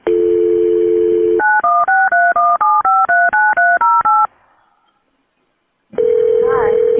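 A telephone line during a call transfer to state police: a steady dial tone, then a rapid run of touch-tone dialing beeps, a brief silence, and the tone returning, loud and clear on the line.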